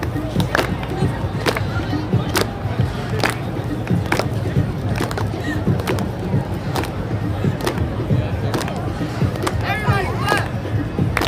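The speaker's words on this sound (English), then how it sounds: "Everybody clap." A Broadway street crowd on 48th Street claps together in a steady, even rhythm, sharp regular hand claps repeating throughout over a busy background of chatter and street noise.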